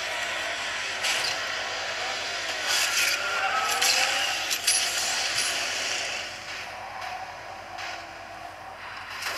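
Car race in Asphalt 8 on an HTC Desire 816 phone: a continuous whine of racing engines with scraping and rubbing noises and a few sharp knocks, steady and fairly loud throughout, no talk.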